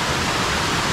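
A small coastal waterfall runs after rain, giving off a steady, loud, close hiss of rushing water with no other sounds.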